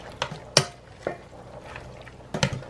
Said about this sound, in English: I'm stirring it, my cabbage